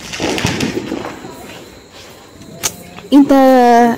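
Diwali firecrackers go off outdoors: scattered crackling pops and one sharp bang, then a loud rising whistle near the end, with background voices and crowd noise.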